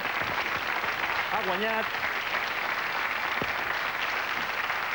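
A crowd applauds in a steady wash of clapping while a voice speaks briefly over it.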